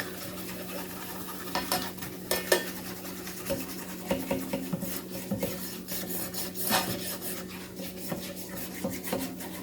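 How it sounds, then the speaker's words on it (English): Flour mixture being stirred in a big open pan over heat: steady scraping and rubbing strokes of a utensil against the metal, with soft clinks and a faint sizzle underneath, close and moderately quiet. "then just mix it all together"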